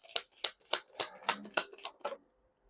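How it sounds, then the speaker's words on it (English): Tarot cards being shuffled by hand, about eight quick crisp riffling bursts in a steady rhythm, close and clear with no talking, ending in a short silence. "You saw me shuffle"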